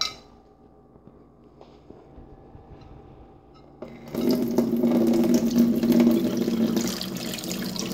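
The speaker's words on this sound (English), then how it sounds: "And then we're gonna pour off the liquid." Liquid is poured off harvested beer yeast in a container, starting after about four seconds of near silence, a continuous splashing, gurgling stream close by that runs to the end.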